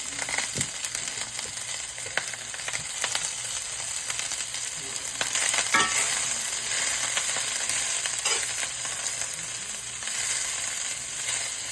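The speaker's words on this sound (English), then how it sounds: "I'm going to go ahead and saute the onions and peppers down first" Onions and peppers saute in butter in a pan for pork chops, giving a steady close sizzle with faint stirring scrapes, and no voices over it.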